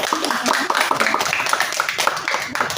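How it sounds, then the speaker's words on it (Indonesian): Steady group clapping fills a quiz contest among Quran-study schools, welcoming one team with a dense, continuous patter of hands at moderate volume and no pause throughout. "Ya, tepuk tangan dulu untuk Regu C."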